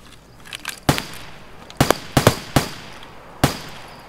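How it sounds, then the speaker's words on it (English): Gunfire in Escape From Tarkov, a series of sharp separate shots at uneven intervals, with a pair fired close together mid-sequence, fairly loud and crisp against quiet background hiss. "Oh, where else are we getting shot from?"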